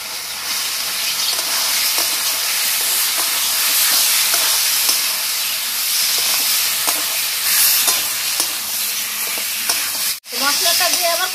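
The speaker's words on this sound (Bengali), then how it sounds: "তো আমি এবার ভেজে রাখা ফুলকপি আলুটা দিয়ে দেবো।" Fried cauliflower and potatoes go into sizzling spices for a rohu fish curry, producing a loud, constant frying hiss with faint stirring clicks and a short break near the end.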